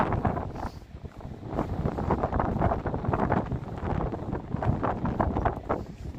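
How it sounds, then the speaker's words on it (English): Heavy wind buffeting the microphone in continuous loud gusts and rumbles near old German bunkers, with no clear voices. "This will be very, very windy."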